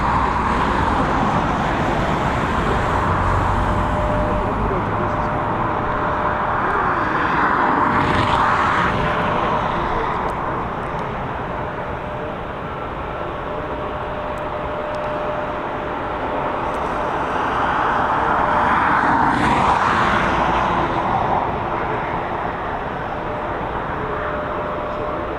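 An airplane landing at Dublin Airport after a flight from Birmingham, a steady, loud, broad jet roar that swells and eases twice over about 25 seconds, heard from a distance outdoors.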